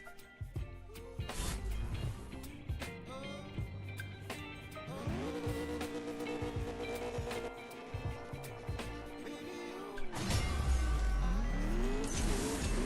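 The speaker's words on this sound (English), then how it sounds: "Why can't I drive this car properly?" A car in the racing game CSR2 revs and accelerates hard, engine pitch climbing through gear shifts with short gaps between pulls, then a loud final surge at the end; no talk over it.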